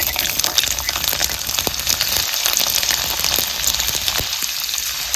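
Garlic sizzles and crackles in hot oil with cumin in a kadhai, a steady bright hiss with scattered popping spatters, close and loud, with no talk.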